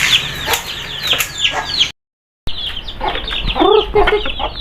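Chickens in a coop, with close, busy clucking and squawks and a short rustle of wings, interrupted by a brief silent gap before the clucking resumes.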